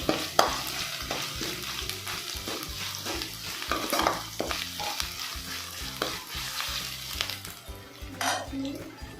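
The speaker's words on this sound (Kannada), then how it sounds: "ಹಸಿ ವಾಸನೆ ಹೋಗೋವರೆಗೂ ಫ್ರೈ ಮಾಡ್ಕೋಬೇಕು ಚೆನ್ನಾಗಿ" Onion and ginger garlic paste fry in a pan, with steady sizzling broken by repeated stirring scrapes and clinks of a spoon against the pan, continuous and close throughout.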